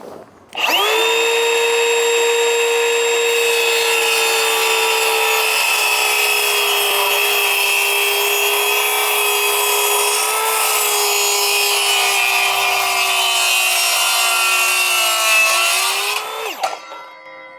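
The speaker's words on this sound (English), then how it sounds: "this saw's got a suitable enough base with a wide enough side that I can keep the pressure on here, and we'll cut that off as well" A power saw cuts through a timber hip rafter in one continuous, loud pass of about sixteen seconds, a steady high whine that holds its pitch until the blade spins down at the end.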